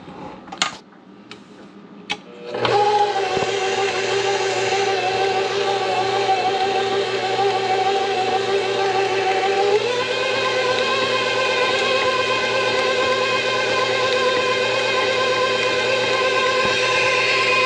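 An electric mixer starts up and runs steadily, beating butter with flour and sugar for a coconut pound cake batter, giving a close, constant motor whir with a slight shift in pitch partway through and faint clinks before it starts.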